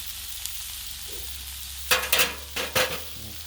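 Country fried steak sizzles on a Blackstone griddle, a steady low fry with a few louder scraping bursts of a spatula toward the end, no voices.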